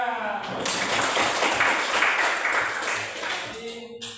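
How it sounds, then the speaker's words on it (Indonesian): An audience at a teacher-training class session claps together in a dense burst that swells, holds for about three seconds and then fades out. "Ya, tepuk tangan."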